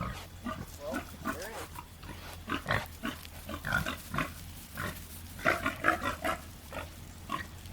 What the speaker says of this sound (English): Look at you, pig.